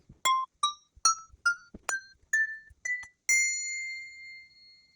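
Montessori grading bells are struck one after another in ascending order, eight clear ringing tones with the last left to sustain and fade, played alone with no talking.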